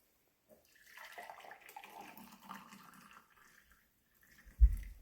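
Hot water poured from a vessel into a container, a soft, smooth stream of splashing that runs for a few seconds, then a short close thump near the end.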